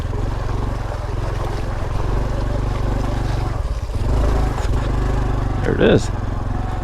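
A 2021 Honda Trail 125 (CT125) motorcycle rides through a muddy bog with a steady, loud engine drone and a brief revving rise near the end, while a rider speaks briefly over it.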